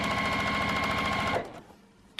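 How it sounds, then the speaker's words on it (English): A sewing machine stitching a quarter-inch seam on quilt fabric for a mug rug, a fast steady mechanical whir heard close up for just over a second before it stops and falls quiet. "I'm just going to sew 1/4 inch down this edge right here to secure it"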